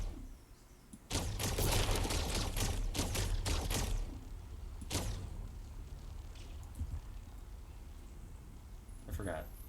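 Rapid bursts of rifle fire from the sideways rifle in Fortnite, a loud volley of several close shots followed by a single later shot and a faint final one.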